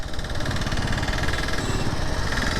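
A Royal Enfield Classic motorcycle engine drones steadily and loudly while riding on a city road in the early morning, with constant rushing wind noise and no pauses.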